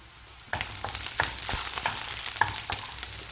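Tamarind is sautéed into an eggplant chutney in a pan, a quiet start giving way to steady sizzling with repeated spatula scrapes and taps at an uneven rhythm.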